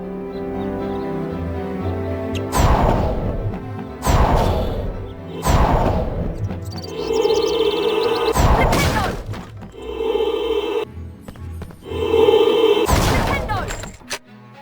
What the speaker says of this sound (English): Try smashing these barrels with a fully charged knockback jinx so we can get through the gate.